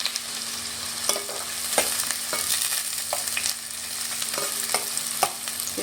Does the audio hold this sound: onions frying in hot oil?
yes